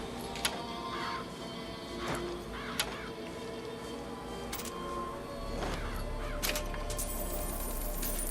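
Crows cawing in BioShock Infinite, several harsh caws spaced across the clip over a steady game ambience with occasional clicks.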